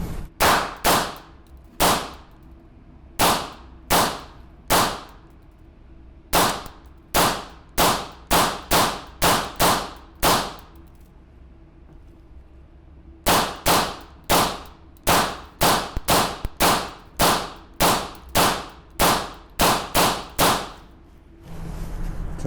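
9mm rounds clicking one at a time into a Mission First Tactical 28-round magazine fitted with an SPD loading adapter: sharp, loud, evenly spaced snaps in two quick runs with a pause between them.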